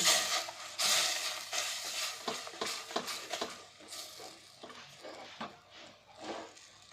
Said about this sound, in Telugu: స్టవ్ ఆఫ్ చేసుకున్న తర్వాత పిండి వేసి కలుపుకోవాలి.